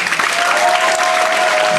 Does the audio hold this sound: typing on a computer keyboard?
no